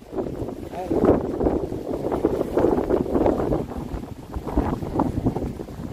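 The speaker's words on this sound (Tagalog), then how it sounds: "lumakas ang hangin ngayon" Strong wind in Western Australia buffets the microphone in continuous low gusts, with indistinct voices faintly mixed into the roar.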